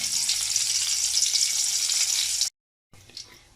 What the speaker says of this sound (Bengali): তেলটা একটু গরম হলে এর মধ্যে দিয়ে দেব তেজপাতা আর দিয়ে দেব দারচিনি